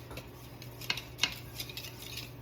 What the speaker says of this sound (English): Go ahead and mix this up